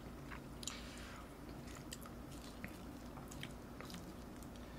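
Crunchy biting and chewing of tuna sushi rice wrapped in seaweed (gim) with a cold beer, close up, steady and soft with a few crisp bites standing out.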